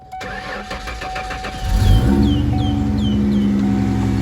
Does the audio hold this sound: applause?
no